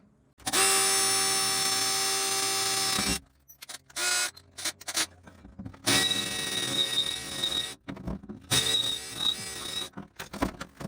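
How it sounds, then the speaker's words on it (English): Drill with a 1/8-inch bit boring pilot holes through pinch welds during rust repair on a Chevy square body truck, a loud steady whine followed by choppy stop-start bursts close up. "drilling out pinch welds, start with an 1/8-inch bit and get that pilot hole in through there"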